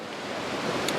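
Ocean waves wash over coastal rocks in a steady, broad rushing surge, close and fairly loud, with no voices.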